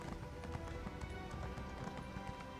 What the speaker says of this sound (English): Just saw a horse.